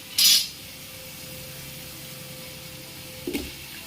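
A tomato drops into a hot chicken biryani pan and sets off a brief, sharp sizzling hiss. It settles into a low, steady simmer, with a faint metallic clink near the end.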